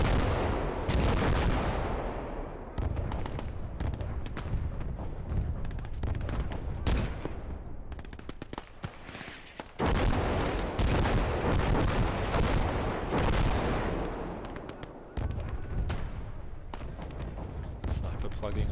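Gunfire rattles almost nonstop through a Gates of Hell battle in a video game. Crackling rifle shots and sniper cracks mix with heavier booming blasts, dense and loud, and pause briefly before resuming.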